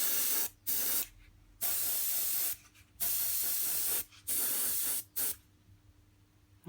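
Several short bursts of hissing aerosol spray paint on a custom Metro 6R4 chassis, separated by brief pauses and close by.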